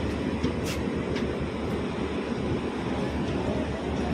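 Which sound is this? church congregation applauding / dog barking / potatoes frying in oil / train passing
train passing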